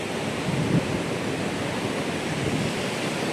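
The Girna river at Malegaon flows with released water, a steady, loud broadband rush with no voices.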